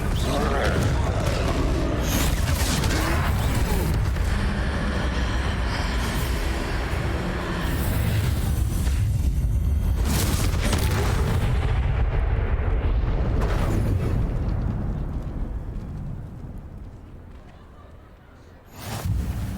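A Confringo blast spell cast in a Hogwarts Legacy troll fight, booming amid a dense, loud barrage of repeated explosive bursts and rumbling impacts that stays continuous for most of the stretch and then fades near the end, with voices mixed in.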